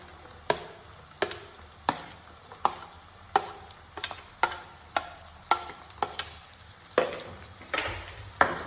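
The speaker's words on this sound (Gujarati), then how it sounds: "તો આપણે તેમાં ડુંગળી કટ કરેલી હતી તે ડુંગળી આમાં એડ કરી દેશું" Chopped onion fries in hot oil in a pan for Surti Mysore bhaji, a close sizzle broken by regular sharp scrapes and knocks of a spoon stirring, roughly one every second.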